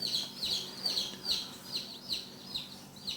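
Chickens on a poultry farm where chicks are hatching give a steady series of short, high cheeps or clucks, roughly two per second, fairly faint and close, with no talk over them.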